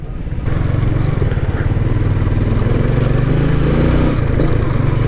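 A Yamaha Sniper 155R motorcycle engine drones steadily while riding through traffic, loud and close, with a continuous buzzing hum throughout.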